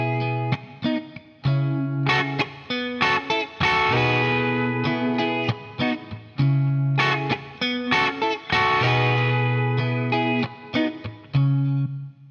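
An electric guitar plays a lead lick built on double stops, with two notes ringing together, through a distorted, chorused effects tone, with repeated phrases and short pauses between bursts over a steady low accompaniment.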